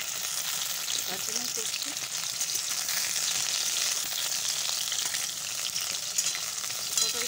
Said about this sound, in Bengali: পটলগুলো ভাজতে দিয়েছি